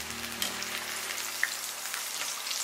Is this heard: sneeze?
no